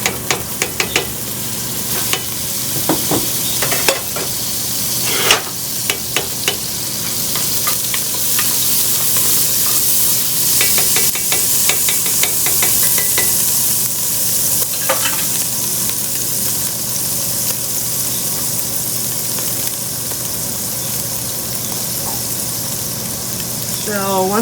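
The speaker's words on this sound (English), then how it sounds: "I'm going to lower the heat to medium, and I'm going to add a tablespoon of butter." Butter melting and sizzling over medium heat in a pan with meat for an Irish meal, a steady broad hiss with scattered crackles and utensil taps running throughout, close and fairly loud.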